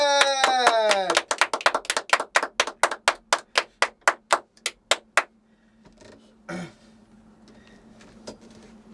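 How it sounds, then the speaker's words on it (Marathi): A performer on a Marathi television comedy show, Cutting With Star, claps about twenty sharp, close hand claps that speed up, then stop abruptly and leave near silence. A voice is heard briefly at the very start. "मी टाळी वाजवली की वाजवायची, मी टाळी थांबवली की थांबवायची."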